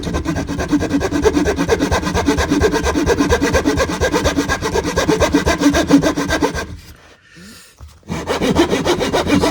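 A hand saw cuts wood for a violin skeleton mould held in a vise, with steady rapid back-and-forth rasping strokes, close and loud, pausing briefly near the end before resuming.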